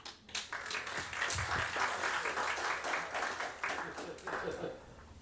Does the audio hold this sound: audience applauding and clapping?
yes